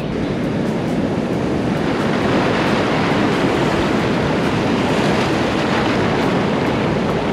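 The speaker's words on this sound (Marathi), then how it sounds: "लाटा पण मोठ्या आहेत, पाऊसही सुरू आहे सध्या." Loud, continuous roar of surf breaking close by on a rocky beach in the monsoon rain, a dense wash of crashing water with no pauses and no voices.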